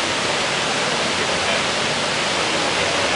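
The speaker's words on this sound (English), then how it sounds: "Shelby and Oakley made it to the waterfall." Waterfall at Old Man's Cave, a loud, continuous broadband roar of falling water heard up close, steady and unbroken.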